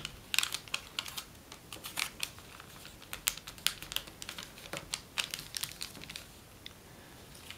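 Origami paper is folded into the wing of a Mockingjay model, giving soft crisp creasing and crinkling taps in an irregular close series with no speech.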